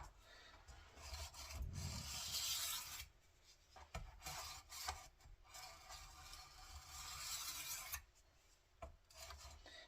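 A knife drawn across a handheld sharpener, giving several rough rasping strokes of uneven length with brief pauses and light clatter between them, close and fairly quiet, with no voices.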